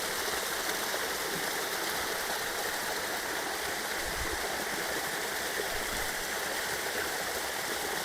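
River water flows with a steady, broad rushing hiss, continuous and even throughout, with no voices.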